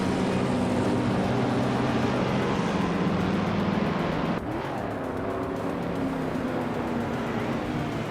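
Race cars roar steadily at close range through a racing game, engines droning continuously with a sharp shift in pitch midway as the field battles neck and neck for the lead.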